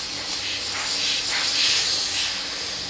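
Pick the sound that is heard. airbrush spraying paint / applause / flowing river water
airbrush spraying paint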